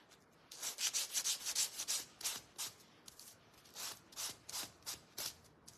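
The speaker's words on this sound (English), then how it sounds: "so I can sand the black pieces" Small black pieces for a ladybug craft insert are sanded by hand in quick rhythmic back-and-forth strokes, soft and close, in two bursts of rasping rubs separated by a short pause.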